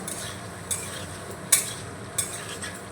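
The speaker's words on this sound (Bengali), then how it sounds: "গাজরের সঙ্গে বরবটিটাও আমি ভেজে নেব।" Carrots and yardlong beans frying in a pan with a steady, close sizzle, broken by a few sharp scraping stirs of a utensil against the metal.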